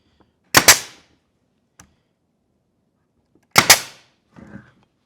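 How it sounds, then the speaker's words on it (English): A brad nailer fires brad nails into a wooden box: two sharp, loud pops a few seconds apart, each with a brief ringing tail, plus a faint tick and a softer knock between them. "Let me shoot some brad nails in this before I go any further"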